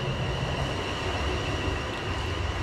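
Steady broadband rumble and whine of a Class 450 electric passenger train passing Wanborough station, continuous and fairly loud throughout with no voices.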